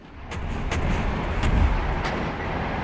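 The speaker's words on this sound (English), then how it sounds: "And here comes the artillery." Artillery fire in the Warno real-time strategy game: a handful of sharp reports spaced about half a second apart over a low rumbling battlefield bed, moderately loud and without speech.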